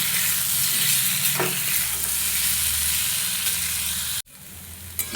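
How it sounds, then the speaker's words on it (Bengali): Potatoes with chopped green chili stir-fried in a pan, a steady close sizzle with scraping stirs, briefly cut off near the end before resuming. "একটা কাঁচা লঙ্কা কুচি দিয়ে খুব ভালোভাবে এটা কষাবো"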